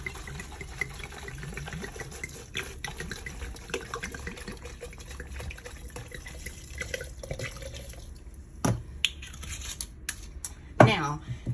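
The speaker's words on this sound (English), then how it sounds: "we're gonna pour this in here" Earl Stevens Tropiscato drink is poured into a cup aboard the Carnival Freedom cruise ship, a soft liquid trickle with a few drips and small knocks, close and faint while a person talks.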